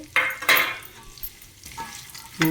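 Curry leaves crackle and sizzle in hot oil with peanuts and chana dal, loud bursts of popping spitting over a steady fry, then easing before another sharp flare-up.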